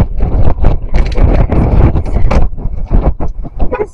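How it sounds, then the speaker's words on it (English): Heavy wind buffeting a handheld microphone outdoors near soccer games, loud gusty rumbles and thumps in uneven bursts that fill the whole stretch. "So windy."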